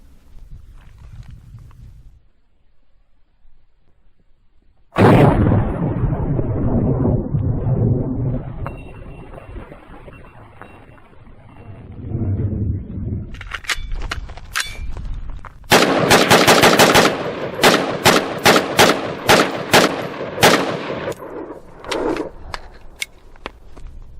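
Gunfire from an ATI Alpha Maxx hybrid 5.56 pistol with a metal upper, fired outdoors: a loud first shot, then a run of rapid, closely spaced sharp reports and a final burst of shots at a quick, regular pace, close by.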